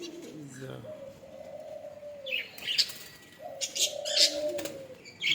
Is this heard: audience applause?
no